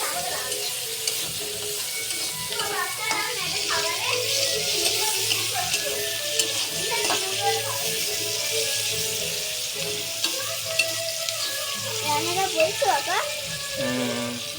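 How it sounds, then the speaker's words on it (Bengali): Sliced onions sizzle steadily in a hot oiled pan, a continuous bright frying hiss broken by occasional scrapes of light stirring. Raw prawns wait nearby to be fried next. "এদিকে চিংড়ি ভাজার জন্য পেঁয়াজ ভাজা হচ্ছে"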